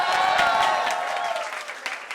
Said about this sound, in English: can we please have a huge round of applause for her once again?